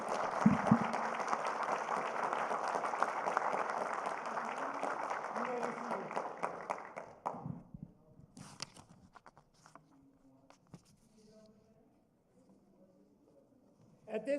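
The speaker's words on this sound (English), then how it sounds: "Another round of applause for Jude." An audience at an Eagle Scout Court of Honor claps for Jude in dense, sustained applause lasting several seconds before fading out, followed by quieter room sounds and a voice speaking.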